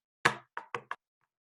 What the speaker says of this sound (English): I'm gonna tap with one hand and with a pen in one hand and with nothing in the other hand